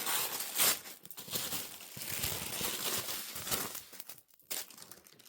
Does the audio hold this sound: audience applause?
no